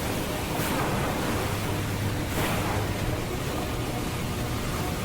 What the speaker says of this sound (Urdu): اچانک اونچی اونچی لہریں اٹھنے لگیں۔